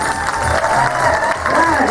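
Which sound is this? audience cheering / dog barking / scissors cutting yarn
audience cheering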